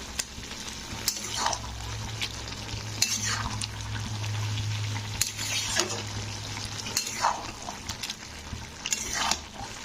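Cabbage being stirred in a pan for a vegetarian Bengali cabbage ghonto, with a steady low sizzle and repeated scraping strokes of a spatula against the pan, close and continuous, with no talking.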